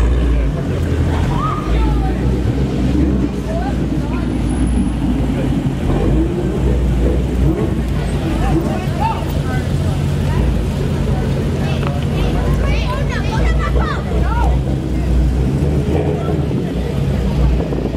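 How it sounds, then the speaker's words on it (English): Several cars rolling in for a toy drive rally on a residential street, with engine rumble steady and close under a busy background hum and some crowd murmur throughout. "All the cars are coming in."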